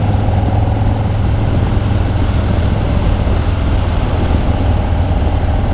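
Steady, loud roar of freeway traffic and engine noise heard from a 2020 Harley-Davidson Low Rider S motorcycle on the move, with a constant low rumble and wind rush throughout and no talking.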